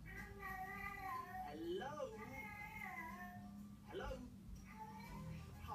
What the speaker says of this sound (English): Here comes another chatty cat.